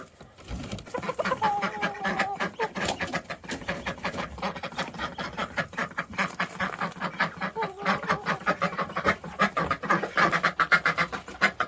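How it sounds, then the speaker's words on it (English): Chickens cluck and chatter busily throughout, a dense flock of overlapping calls close by with a steady, lively rhythm and no talking. "Good morning, chickens."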